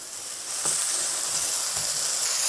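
Apple slices sizzle and fry in hot oil in a pan, a steady close hiss with faint crackles throughout, no voices.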